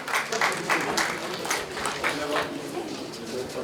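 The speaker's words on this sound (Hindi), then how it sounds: "जोरदार तालियों के साथ स्वागत करें।" An audience applauds to welcome Dr. Shobha Vijayan, founder and advisory committee member, at a family get-together; dense clapping runs steadily throughout, fairly loud and close.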